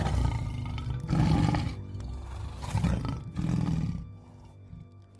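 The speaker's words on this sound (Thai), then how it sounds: "มันก็เริ่มมีเสียงเสือคำรามขึ้นมาจากราวป่า" Tiger roaring from the edge of a forest at night, a sound effect in a spooky Thai hunting tale: repeated deep, rumbling roars in several loud surges, close and heavy, with no talk over them.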